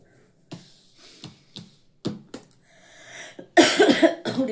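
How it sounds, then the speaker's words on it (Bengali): Several short, dry coughs from one person indoors, spaced unevenly, ending in a louder harsh rasping burst, close and with no other sound. "এই কাশিটা বিঘ্ন রিডিং এর মাঝে"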